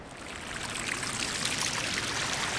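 Steady rushing and splashing of a waterfall beside a hiking trail on Kauai's North Shore, a continuous broad wash of falling water with no voices.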